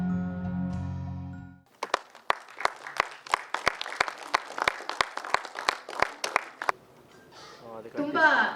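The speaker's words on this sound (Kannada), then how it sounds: "ಅದ್ಧೂರಿಯಾದ ಜೋರಾದ ಚಪ್ಪಾಳೆ" At a film press meet, a brief tonal chime is followed by a run of sharp, evenly spaced claps from a small group, and a voice begins speaking as the clapping ends.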